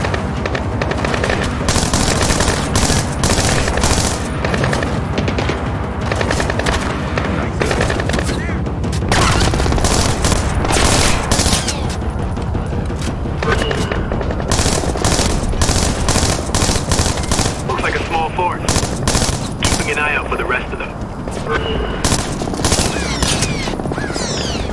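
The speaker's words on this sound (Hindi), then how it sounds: "गोलियां बज रही हैं।" Rapid machine-gun bursts and fusillades of gunfire in the stealth shooter Splinter Cell: Blacklist at a detention facility, loud and nearly continuous, with occasional booms and a voice talking over them.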